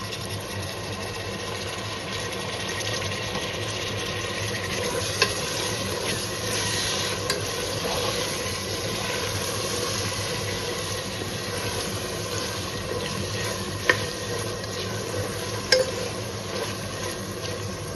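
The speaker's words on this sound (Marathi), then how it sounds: "आता वेळ आहे टोमॅटो ऍड करायची." Tomatoes sizzle steadily in a hot pan while being stirred, partway through cooking prawn rice, with a continuous close frying hiss and occasional faint clinks of the utensil against the pan.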